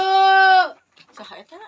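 A young Garut lamb lets out one loud, close, wavering bleat that stops abruptly, followed by people talking nearby.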